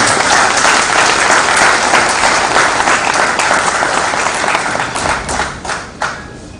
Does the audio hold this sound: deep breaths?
no